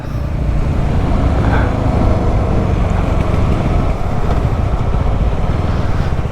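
A BSA Bantam 350 motorcycle on the move gives off a constant loud engine drone mixed with heavy wind rush, steady throughout with no talking.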